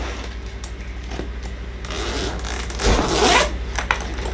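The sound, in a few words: zipper on tool bag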